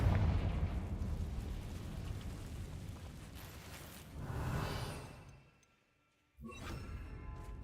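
A Confringo fire spell in Hogwarts Legacy goes off as a rumbling, whooshing blast that swells, cuts to near silence, then returns with a short crackling burst.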